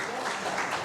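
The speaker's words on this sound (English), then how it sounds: "A louder round of applause," Audience applause at a business seminar session, a brief steady wash of clapping at moderate level with a faint voice mixed in.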